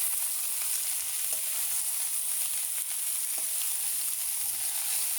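Potatoes tossed and stirred in a hot frying pan, giving a steady close sizzle with faint scraping, heard alone without talk.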